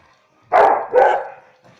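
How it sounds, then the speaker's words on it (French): A dog barks twice close by indoors, two loud rough barks in quick succession, followed by a faint softer yelp. "Excusez-moi, c'est ma chienne."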